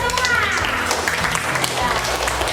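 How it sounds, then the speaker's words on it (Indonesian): Children in an elementary school classroom clap together in a short burst of scattered applause, close and fairly loud, with a voice speaking over it. "Tepuk tangan buat kita semua."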